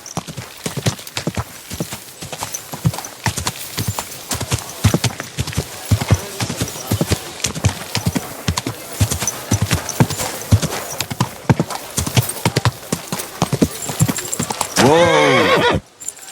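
Horse hooves clip-clop in a steady, rapid rhythm throughout a medieval scene in Kingdom Come: Deliverance II, fairly close and clear, ending in a loud, drawn-out neigh near the finish.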